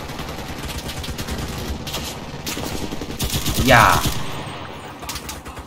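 Gunfire in Enlisted during a Stalingrad street battle: repeated shots rattle through busy combat noise, with one louder burst near the middle, while players talk over it.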